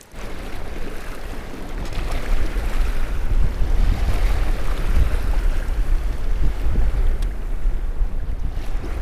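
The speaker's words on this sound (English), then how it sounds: "this is the roughest water and wind I've ever been in my Pelican bass raider" Rough open water slapping around a Pelican Bass Raider fishing boat on a fall smallmouth outing, with strong gusting wind roaring across the microphone in a loud, continuous rumble that never lets up.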